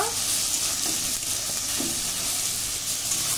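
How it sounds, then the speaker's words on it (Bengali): Spices sizzling in hot oil while being stir-fried with pointed gourd and raw mango, a steady loud frying hiss with faint stirring scrapes, continuous throughout. "খুব ভালো করে মশলা কষিয়ে নেব।"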